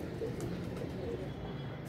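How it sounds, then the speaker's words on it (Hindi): Pigeons being let out of their loft coo softly in a low, throaty murmur over steady outdoor background noise, a brief, fairly faint burst of bird sound. "हम आज से जी कबूतर बाहर निकल आए हैं"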